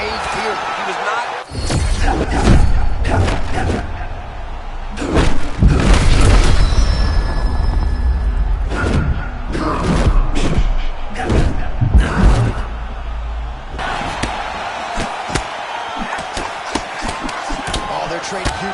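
Heavy punches land in a UFC video game fight, a run of loud, booming thuds and slams in close bursts with crowd-like noise between them.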